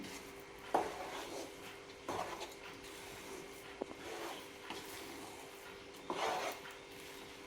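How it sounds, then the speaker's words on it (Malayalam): Gentle spoon scrapes and soft clinks come as kuska rice is mixed with lemon juice in a pot. A few faint, widely spaced touches sound over a quiet room hum. "1 ടേബിൾ സ്പൂൺ ലെമൺ ജ്യൂസ്, സാവധാനം വേണം മിക്സ് ചെയ്തെടുക്കാനേ."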